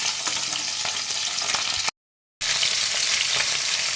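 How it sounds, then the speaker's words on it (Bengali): Pabda fish frying slowly in hot oil, a steady dense sizzle close by with a brief total dropout midway, then the same crackling hiss resumes; no talking. "পাবদা মাছ ভীষণ নরম হয় ভীষণ শুকি মাছ আমি এগুলো আস্তে আস্তে ভেজে এবারে তুলে নেব"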